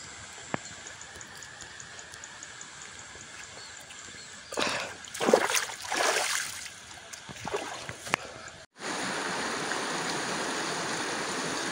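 Clear water runs steadily along a rural irrigation channel beside rice fields, a soft continuous flow broken midway by louder splashing and rustling before the flow resumes more fully.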